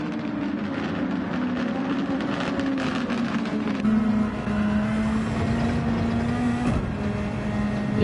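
GT1 race car in a sim racing game at Suzuka, running a lean fuel-saving engine map, its engine drone steady and loud throughout with slowly shifting pitch and no talk.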